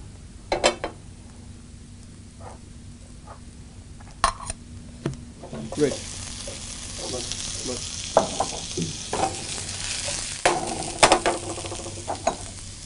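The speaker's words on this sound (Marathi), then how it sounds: "क्विक डिलाइट मँगो रोलसाठी लागणारे व्हेजिटेबल्स आता आपण टॉस करून घेऊया" Mixed vegetables for mango rolls, including yellow, green and red capsicum and yellow zucchini, are tossed in a pan, giving a soft sizzle with irregular scraping and clinking of a utensil against the pan, growing busier in the second half.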